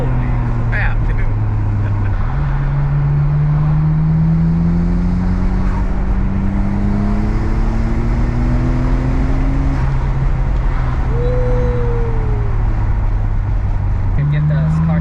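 Car engine pulling hard under acceleration through a sustained high-G ride, a loud steady drone with rising pitch sweeps and shifts, heard from inside the cabin while excited voices talk over it.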